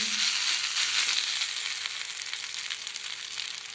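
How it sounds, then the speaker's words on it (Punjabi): Bread pizza sizzles on a hot tawa griddle, a steady close frying hiss with fine crackles that eases slightly in loudness toward the end. "ਹੁਣ ਆਪਾਂ ਇਹ ਵੀ ਉਸੇ ਤਵੇ ਉੱਪਰ ਮਿੰਟਾ ਮਾਰ ਦਿੰਨੇ"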